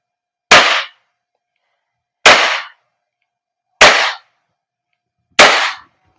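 An Umarex Glock 17 Gen 5 airsoft gas blowback pistol by VFC fires four sharp, loud cracks spaced about one and a half seconds apart, each with a short fading tail and silence between.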